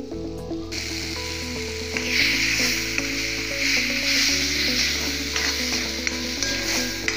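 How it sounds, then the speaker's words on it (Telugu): Tomatoes and tamarind sizzle and fry in a pan for a tomato chutney, with steady crackling and repeated scraping strokes of stirring close up and no talking. "ఈ టమాటాల్లోనే మనకి తగినంత చింతపండుని వేసి కొంచెం సేపు ఈ టమాటాలతో పాటు చింతపండును కూడా మగ్గనిద్దాము"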